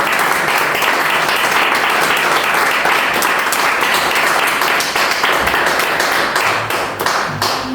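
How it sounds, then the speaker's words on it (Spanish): A church congregation claps loudly and close by, a thick continuous wash of applause that grows more rhythmic toward the end, with individual hand claps becoming distinct, and no speech. "le puede dar otro aplauso"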